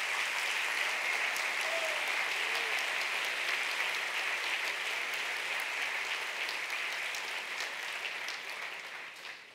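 A church congregation at an evening service bursts into steady, dense applause that stays loud and even for several seconds before tapering slightly at the end.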